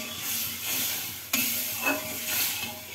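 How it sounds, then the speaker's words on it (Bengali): Water poured into a hot pan for pabda fish curry gives a steady, close sizzling hiss, with a sharp burst around midway and brief swells of bubbling as the liquid meets the hot oil and fish, with no voices. "তো জলটা দিয়ে দিচ্ছি।"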